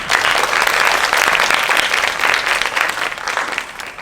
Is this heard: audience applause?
yes